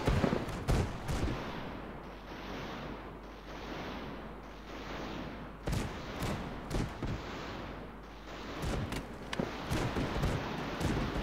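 Cannons firing aboard warring airships in the strategy game Airships: Conquer the Skies, a steady roar of overlapping booms with sharper individual blasts punching through, loudest near the start and again toward the end.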